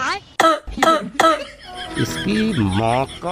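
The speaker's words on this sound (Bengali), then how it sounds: "ওই যে দেখেন ডাক্তার সাহেব কি করে কাশছে।" Three sharp coughs in quick succession, followed by a voice talking.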